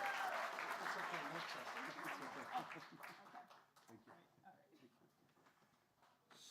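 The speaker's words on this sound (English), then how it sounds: "Another better round of applause, guys." Audience applause at a general assembly event welcomes a speaker onstage: dense clapping swells at first, then thins and fades over a few seconds as voices and chatter take over.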